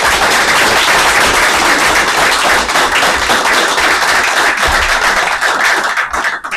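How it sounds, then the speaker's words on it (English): A meeting audience applauds after a retiring Chief Financial Officer and Treasurer is honoured, with loud, dense, steady clapping from a room full of people for several seconds that thins slightly at the end. "Let's give her a round of applause."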